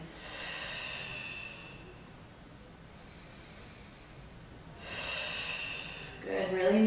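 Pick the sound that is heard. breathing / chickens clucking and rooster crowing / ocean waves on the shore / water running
breathing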